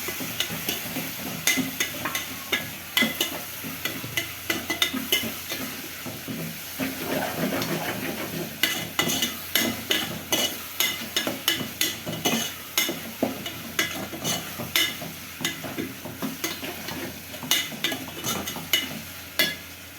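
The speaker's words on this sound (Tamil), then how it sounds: "மஷ்ரூம் நல்லா வதங்கணும்" Mushrooms sauté in a pan for mushroom biryani, sizzling steadily with repeated scraping and clinking of a spoon against the pan, close and continuous.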